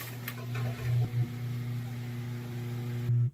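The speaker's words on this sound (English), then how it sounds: "That's the sound of a motor trying to turn, but it can't turn." An Amana washing machine motor hums while trying to turn but stuck. A steady low electrical drone with faint overtones is broken by a few short clicks and surges, then cuts off abruptly.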